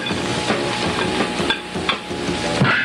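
Fruit stirred in a pan for jam gives a continuous close sizzling, scraping hiss with soft irregular knocks of the spoon, steady throughout with no voices.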